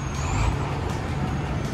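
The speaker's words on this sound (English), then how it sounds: "I hold the button in, and the vehicle will back itself out of the parking spot." Hyundai car with Smart Park reversing itself out of a parking spot, a steady low engine and road rumble with faint mechanical whine above, continuous and fairly close, no talking.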